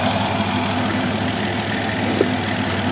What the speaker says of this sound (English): my plan is to let it sit here and run for about an hour.